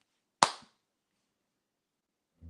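One sharp, close hand clap rings out in a quiet room and decays quickly, followed by a faint low thump about two seconds later.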